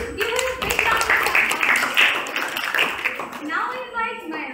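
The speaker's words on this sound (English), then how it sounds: "applause." An audience claps after a child recites a poem at a school English elocution activity. The clapping is scattered and brisk, with a voice talking over it nearly the whole time.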